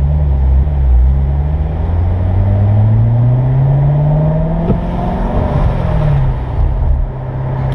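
A 2015 Corvette Stingray with a seven-speed manual transmission accelerating from inside the cabin, a loud, steady low engine drone that rises in pitch through the gears, with a brief dip before settling again.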